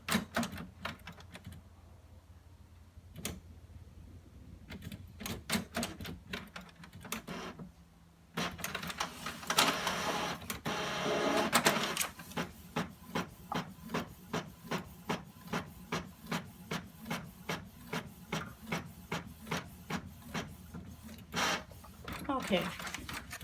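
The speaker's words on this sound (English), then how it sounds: "It's a Canon printer, which is a home office printer." A Canon home office printer runs through a print job, with whirring feeds and then a long, steady series of rhythmic mechanical clacks. A person talks over parts of it.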